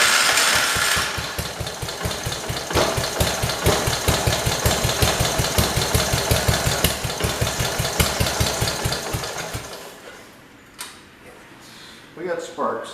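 Kohler engine on a 1968 112 being cranked over and over, a loud rapid rhythmic chugging for about ten seconds that stops without catching, followed by faint mechanical clicks and handling noises.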